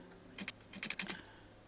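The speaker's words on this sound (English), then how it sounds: "So you hit your page up key, wherever it, find it on your keyboard." Several quiet key presses on a computer keyboard, one short pair followed by a quick cluster of clicks, close and isolated with no talk.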